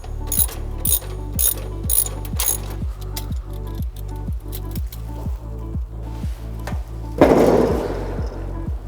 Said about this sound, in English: we need to further tighten the adjustment bolts on the number 3 roller tensioner